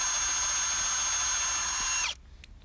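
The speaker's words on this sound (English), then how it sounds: "You just gotta drill a hole and then just bolt it in." A power drill whirs steadily at close range for about two seconds, drilling a bolt hole for an aftermarket spoiler or diffuser on an Infiniti G35, its pitch dipping slightly before it cuts off abruptly, leaving quiet room noise.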